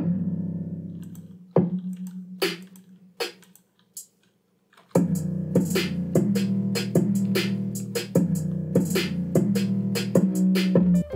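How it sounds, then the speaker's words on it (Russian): Drum part of a type beat programmed in FL Studio: a few sparse clicky hits over a low tone, then a brief gap before a dense, punchy pattern of snappy percussion over deep bass kicks in. "Вот такие вот звуки я использовал для ударной партии."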